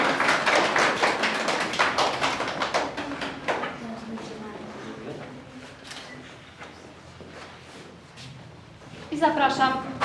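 An audience at a children's library reading contest and Librarian's Day event applauds a contestant. The dense, brisk clapping starts loud and gradually thins out. A voice speaks briefly at the end.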